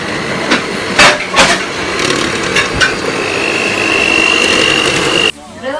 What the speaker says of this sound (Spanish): comenzamos a batir como cualquier merengue.